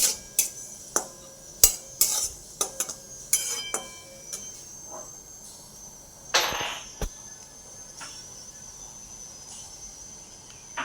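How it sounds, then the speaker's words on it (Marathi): Spoon scraping and clinking against a pan while moong dal halwa is stirred, a series of sharp irregular metallic taps and scrapes, close and fairly quiet, with one longer scrape in the middle. "सारखी अशी हलवतच राहायची"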